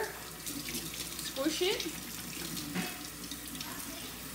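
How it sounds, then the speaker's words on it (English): Water from a sink tap runs steadily over a Norwex counter cloth being rinsed, with some sloshing and squeezing, close and moderately loud, and a person speaks briefly over it. "Just run it under the water,"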